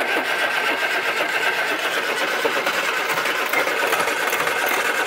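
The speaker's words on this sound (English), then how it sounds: "Give it a little bit of throttle as you turn it on the button." Old barn find car engine catching and running after cranking, a steady busy mechanical clatter that stays loud and continuous throughout with no voices over it.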